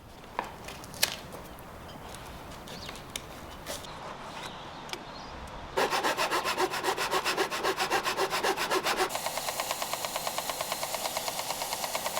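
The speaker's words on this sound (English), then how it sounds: "I'll continue sanding the profile until it's a close match." Scattered taps and scrapes give way to steady, rhythmic back-and-forth rubbing as oak wood is sanded by hand at close range on an antique watchmaker's bench.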